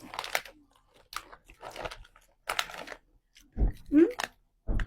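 Loud crunching bites of crispy pork crackling being chewed up close, alternating with bits of talk between mouthfuls.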